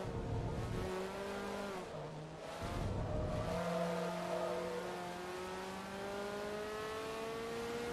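A Ferrari in the Forza Motorsport 2 video game revs hard, its engine note climbing and dropping through gear changes with a brief tire squeal, sounding close and continuous.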